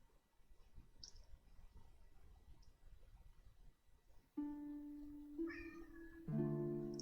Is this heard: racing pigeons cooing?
no